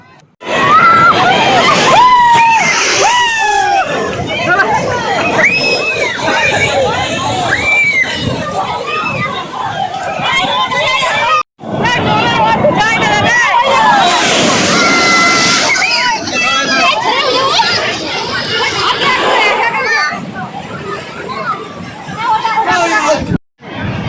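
Sea waves surge and slosh at Puri beach while people bathe in the surf, the water rushing loudly and continuously with crowd noise and voices talking over it.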